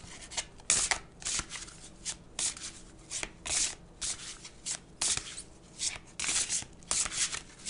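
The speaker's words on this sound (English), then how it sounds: "I'm going to pull an angel card" A deck of angel cards is shuffled by hand in steady, repeated riffles and rubs, close and clear, with no talk over it.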